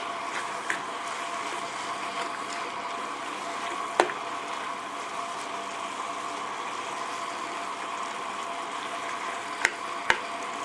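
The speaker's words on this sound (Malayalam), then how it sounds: "തവിയുടെ ബാക്കോ അല്ലെങ്കിൽ സ്പൂണിൻ്റെ ബാക്കൊക്കെ വെച്ചിട്ടൊന്ന് ഇളക്കി നോക്കാം" Red spinach and dal thoran for a Kerala dish sizzles in an open pan, a steady moderate frying hiss with a few sharp clicks as the back of a ladle stirs it.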